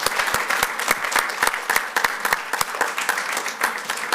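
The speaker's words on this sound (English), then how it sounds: "how about a round of applause to this great panel?" Audience at a cannabis science and policy forum roundtable applauds a panel, steady dense clapping from many hands filling the whole stretch at moderate volume with no talk over it.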